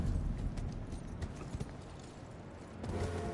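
Horse hooves clop along in the Elden Ring video game, a quick run of rhythmic hoof beats over steady rumbling game ambience, with no talking.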